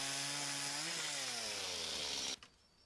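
A chainsaw cuts through wooden posts during restoration of a classic bread oven, whining loud and close as the engine pitch rises under load, then cutting off abruptly near the end.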